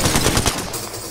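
Rapid automatic gunfire in the battle royale game Apex Legends, a dense burst of shots that runs for about half a second and then gives way to a fading rumble.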